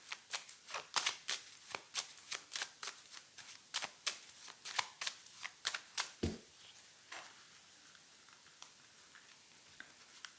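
Tarot cards are shuffled close to the microphone in a quiet room: a run of crisp, rhythmic riffling snaps with a brief thump, then sparser flicks that fade out.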